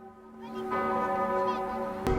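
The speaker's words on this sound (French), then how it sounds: "toutes les cloches des cathédrales de France sonneraient à cette heure-là" Cathedral church bells in France ring with a sustained, layered hum of overlapping tones, steady and moderately distant, with a sharp clink near the end.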